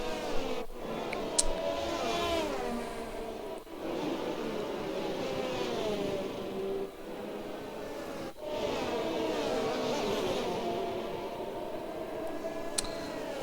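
Race cars from an F1 video game rolling through the formation lap of the Saudi Arabia Grand Prix, a steady layered engine drone with shifting tonal whines and a few brief dips, continuous throughout.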